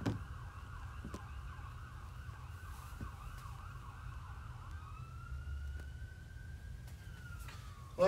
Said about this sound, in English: Looks like an ambulance just went by.